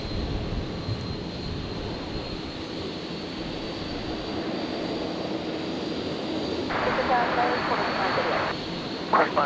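A Virgin Australia Boeing 737 MAX 8 jet at Brisbane Airport gives a steady broadband engine roar that builds slightly over time, with radio chatter from air traffic control breaking in near the end.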